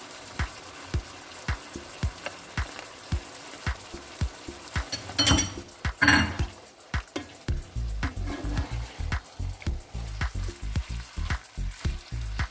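Ground meat seasoned with paprika and salt fries in a pan with tomato sauce, crackling and sizzling steadily while a utensil scrapes and taps the pan in a regular stirring rhythm, close up with no voices.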